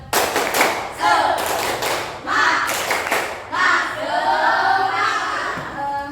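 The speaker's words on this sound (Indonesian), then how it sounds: "Tepuk semangat." A classroom of students does the rhythmic 'tepuk semangat' spirit clap, with a few quick sets of sharp claps and thumps in a patterned rhythm, and children's voices chant between the sets.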